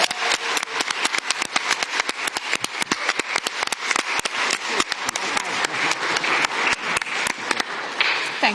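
A conference audience applauds at a press event with the Canadian prime minister, Polish president and EU commission president, a sustained round of close, crisp clapping that keeps going throughout.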